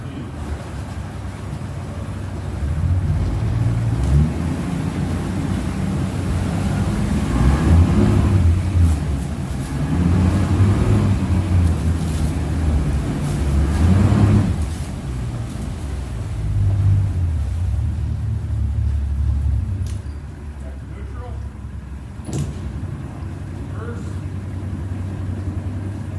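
A 2004 Mercury 115hp Optimax outboard boat motor with a 25-inch tiller runs at steady low revs, then is run up a little in a few rising surges of deep rumble before settling back to an even drone.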